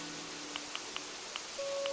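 Steady rain falling in Animal Crossing: New Horizons, a soft continuous patter with a few brief chime-like ticks scattered through it and a sustained tone rising near the end.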